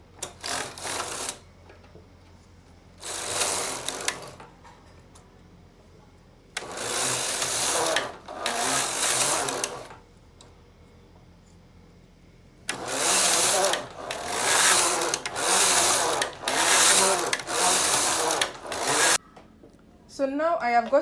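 Domestic knitting machine carriage run back and forth across the bed at tension 5 while casting on, giving repeated loud rasping swishes in bursts of one to two seconds with short pauses between rows.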